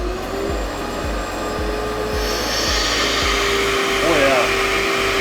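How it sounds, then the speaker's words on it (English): A loud, steady vacuum pump motor drones throughout while filtering maple syrup, with a rhythmic low thumping pulse beneath it and a brief voice near the end. "let's turn the vacuum on"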